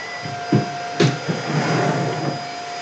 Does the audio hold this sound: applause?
no